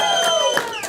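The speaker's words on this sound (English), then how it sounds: "He said as the crowd went absolutely insane" Brief burst of crowd noise at a comedy show, with voices yelling and cheering loudly in a short wild outburst.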